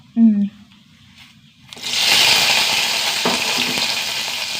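A brief voice, then a sudden loud sizzle as asafoetida and fenugreek hit hot oil, crackling steadily and close for several seconds.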